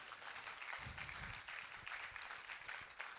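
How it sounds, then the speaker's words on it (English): Faint, steady applause from an audience at an International Men's Day celebration, a soft continuous patter of clapping with no voices over it. "with the biggest of applause you can ever gather"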